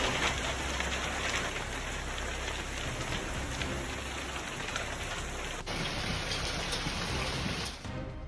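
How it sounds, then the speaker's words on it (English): A severe hailstorm in Dallas pours down as a dense, continuous roar of falling ice and water striking surfaces. It stays loud and steady, briefly dips, then resumes without talk. "Dallas was also battered by a severe hailstorm, a clear reminder to always seek shelter and never take storms lightly."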